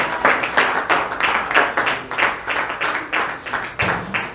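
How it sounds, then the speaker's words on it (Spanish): A congregation at a Spanish-language church service claps together in a steady, rhythmic beat, with fairly close, repeated pulses of group clapping throughout. "déle un aplauso a nuestro Señor Jesucristo"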